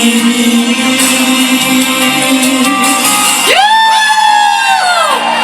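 Crowd whoops and cheers at an outdoor evening concert in Pingtung's Millennium Park, loud and sustained, with rising shouts and a sweeping tonal sound swelling near the end.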